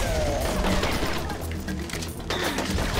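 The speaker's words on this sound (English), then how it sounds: "What is shooting me?" Gunfire in a shooter video game, dense overlapping shots and crackling bursts filling the scene at close range, loud and continuous with no talk.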